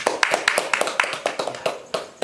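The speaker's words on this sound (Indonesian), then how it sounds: "Kita kasih tepuk tangan untuk Mama Novi dulu" Scattered claps from a small group of training participants applauding a fellow participant, sparse and uneven, close by and moderately loud, with a voice briefly audible among them.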